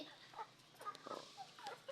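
Rhode Island Red chickens, about four months old, give soft, scattered clucks and short calls while being fed. The sounds are close but quiet, with no talking.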